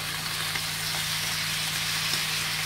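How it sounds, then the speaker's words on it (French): Meat and sliced carrots browning in a frying pan give off a steady, close broadband sizzle with a low hum underneath, constant throughout with no voices. "Voilà, mes carottes sont coupées. La viande commence à bien dorer."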